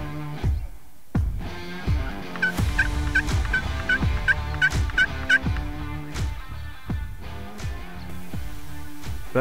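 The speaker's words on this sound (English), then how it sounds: "We got another one gobbling over here." Wild turkey tom gobbling in the distance, a rapid warbling gobble rolling out over several seconds amid other outdoor bird calls and occasional sharp knocks, heard alone without talk.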